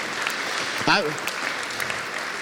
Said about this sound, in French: Vous pouvez tous les applaudir, la société Plat